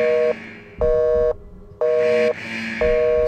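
A telephone busy signal in The Suffering video game, set in a prison: loud, steady repeating tones, each about half a second long, separated by silent gaps, heard alone.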